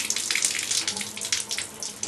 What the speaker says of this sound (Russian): И открываем на смесителе кран холодной и горячей воды одновременно